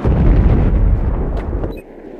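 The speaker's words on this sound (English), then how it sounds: "I should crack a few shots off at him." Heavy gunfire from the Battlefield 4 video game, Rush mode: a loud, dense burst of booming shots rolling together like artillery, then dropping away abruptly near the end, with no talking over it.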